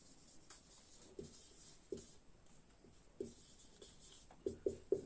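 Faint writing on a classroom board, soft scratchy strokes and light taps in scattered short bursts, growing quicker toward the end over a quiet room hush.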